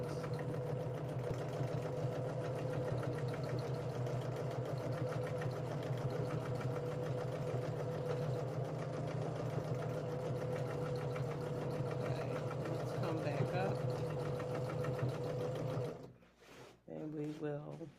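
A domestic sewing machine stitches a basted quilt with a steady, rapid mechanical hum and needle chatter that runs nonstop for about sixteen seconds before stopping, after which a voice briefly speaks.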